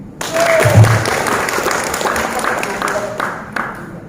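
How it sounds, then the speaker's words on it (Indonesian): Audience applause at an alumni reunion of a university dakwah faculty, held in a hotel hall: a burst of clapping begins sharply and continues steadily for a few seconds, with voices mixed in beneath it. "Tepuk tangan."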